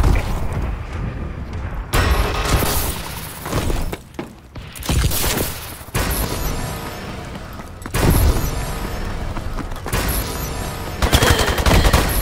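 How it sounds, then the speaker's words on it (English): A bombing run in the video game Call of Duty: Advanced Warfare: loud repeated waves of booming explosions and crackling bursts, broken by brief lulls, with heavy impacts near and dense. "Friendly bombing run clearing the way."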